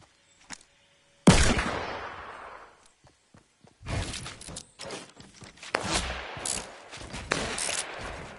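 Shotgun fire in the Fortnite video game: a sudden loud blast followed by a burst of rapid shots, thuds and whooshes from close gameplay, with no talking.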